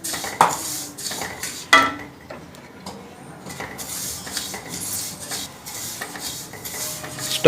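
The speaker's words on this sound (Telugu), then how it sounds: "ఇప్పుడు నువ్వుల్ని వేయించుకుందాం. 1/2 కిలో నువ్వుల్ని 2 సార్లు వేయించుకోవాలి." Sesame seeds roast in a pan on a medium flame, stirred continuously with a metal spoon that scrapes and clinks against the pan in irregular bursts under a soft rustle of shifting seeds, with no talking.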